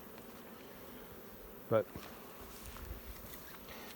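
Bees buzz steadily around crowded wooden hive boxes packed with brood frames, a soft continuous hum at close range, briefly interrupted by a single spoken word.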